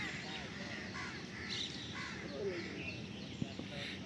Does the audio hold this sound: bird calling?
yes